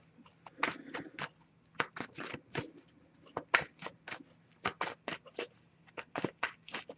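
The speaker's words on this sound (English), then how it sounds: "I'll give it a few shuffles" A deck of cards being shuffled during a card reading gives short, crisp riffling bursts, repeated in quick clusters with brief pauses between, quiet and close.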